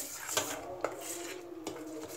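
Homemade cake batter is mixed in a bowl, a faint, quiet background of soft scraping with a few light utensil taps against the bowl.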